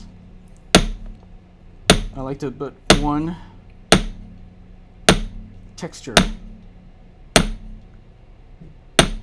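A wire bangle being hammered by hand for jewelry texturing, sharp metallic strikes spaced about a second apart, close and loud, with someone talking between the blows.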